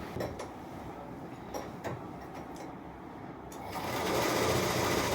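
A sewing machine stitches a blouse, its rapid ticking run starting and stopping in short bursts before settling into a louder, continuous whirring stitch near the end, close and without talk.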